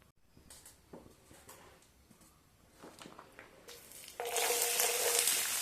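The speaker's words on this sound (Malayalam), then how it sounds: "ഇഞ്ചി ഇതിലേക്ക് ഇട്ട് നമുക്കൊന്ന് വഴറ്റി കോരിയെടുക്കാം." Ginger hits hot oil for a mango-ginger pickle, setting off a sudden loud, steady sizzle after some quieter clinks and movements in the kitchen.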